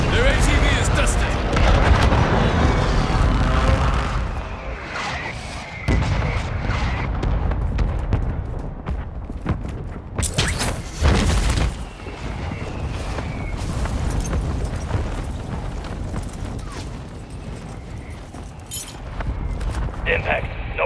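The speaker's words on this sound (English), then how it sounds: "Requesting fire mission. Target marked. Copy your mark. Mortar strike inbound." Mortar strike explosions in a Call of Duty match sound as repeated heavy booms and sharp blasts, close and loud, with scattered gunfire and radio-style voices talking over the action.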